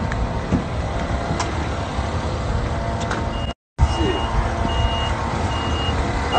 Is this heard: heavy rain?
no